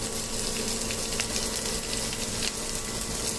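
Onions frying in hot oil in a pan for Bengali fish head murighonto, a steady, loud hissing sizzle that runs evenly throughout with faint crackles.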